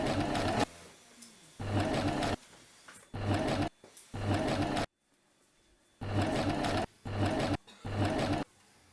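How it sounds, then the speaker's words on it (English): A sewing machine zigzag-stitches elastic on a boho dress, running in loud bursts of about a second each with short quiet pauses between, close and alone with no talk. "Set the elastic with a zigzag stitch."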